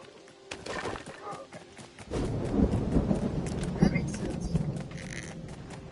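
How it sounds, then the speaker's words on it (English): Thunder from a lightning strike in a video game, a loud crack followed by a long rolling rumble with rain, as a voice speaks over it. "Did you just get struck by lightning?"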